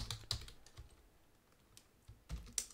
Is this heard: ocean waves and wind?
no